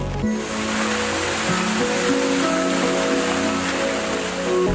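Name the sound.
rain starting to fall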